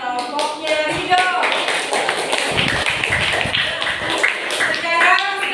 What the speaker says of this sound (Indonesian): beri tepuk tangan buat kelompoknya Rido